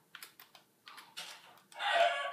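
A chicken in a video game takes hits: a quiet run of short, sharp tapping impacts, then a louder, noisy squawk-like burst near the end.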